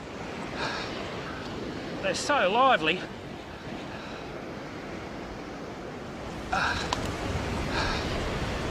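Surf breaks on an ocean beach while someone lands a lively fish, a steady wash of waves throughout with louder surges, and someone talking over it.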